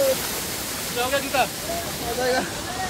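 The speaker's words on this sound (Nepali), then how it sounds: "यतातिर चाहिँ झरना झर्यो झरझर झरझर झर" A steady rush of falling water from a waterfall on the Kedarnath trek fills the background, with a person singing over it.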